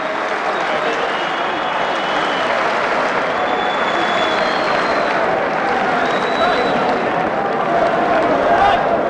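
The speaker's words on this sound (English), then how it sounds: "I want everybody to give him a great round of applause" Loud, dense applause and crowd noise fill an arena in Manchester after the Nigel Benn vs Steve Collins boxing fight, a steady roar of clapping and cheering that runs unbroken throughout.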